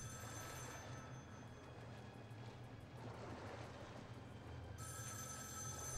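A telephone rings in the video game Metro: Last Light Redux, a faint rapid electronic bell trill repeating over low ambient wind and water noise, with no voices.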